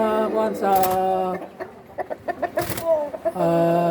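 A Rhode Island Black Mahogany rooster on a farm gives loud, close, drawn-out vocal calls, with a run of short clucks in between.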